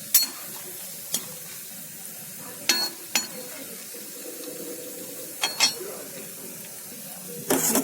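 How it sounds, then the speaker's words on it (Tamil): Cashew nuts fry in a pan while being stirred, giving a soft continuous sizzle broken by scraping and clinking of a spoon against the pan. "நல்லா முந்திரி பருப்பை நல்லா செவர வதக்கிக்கலாம்"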